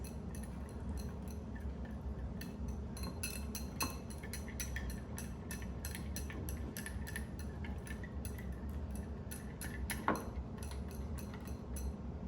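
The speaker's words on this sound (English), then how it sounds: "And then we're just going to whisk that all together, all those great spices." Spices for a honey pear glaze being whisked together in a bowl: quiet, steady light clinking and ticking of a whisk against the bowl, faint and continuous, with a couple of slightly sharper taps.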